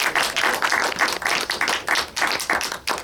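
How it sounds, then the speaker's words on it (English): Sustained applause from a crowd at a panel event, steady dense clapping that rises and dips slightly over a few seconds. "Big round of applause."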